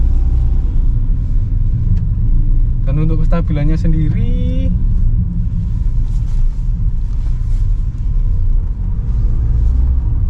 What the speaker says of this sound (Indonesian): kita langsung coba aja ya bagaimana sih rasanya 88 HP-nya ini di mesin 3 silindernya ini